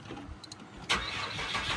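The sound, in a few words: race car engine starting and idling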